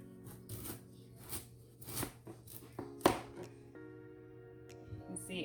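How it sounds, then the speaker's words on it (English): A kitchen knife chops sweet potato on a cutting board in a series of quiet, irregular knocks, clustered in short bursts, with a faint steady hum beneath and a sharper single chop standing out near the middle. "I'm gonna finish cutting up my sweet potato"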